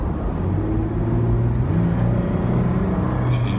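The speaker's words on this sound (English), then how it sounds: "we're gonna step on it and see how this thing downshifts" Toyota 4Runner accelerating hard and downshifting after a transmission flush, a loud, continuous engine drone with shifting tonal bands rising and falling, heard from inside the vehicle.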